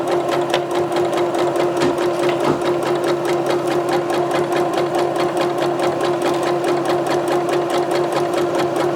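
A sewing machine stitching slowly through several layers of fabric for a skirt, producing a steady, rapid mechanical clatter with an even rhythm and a constant motor hum, close and continuous.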